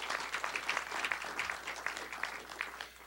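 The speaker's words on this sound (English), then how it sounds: "give a round of applause for him, please" An audience at a college idea pitch competition gives a round of applause, moderately distant, continuous clapping that gradually softens toward the end.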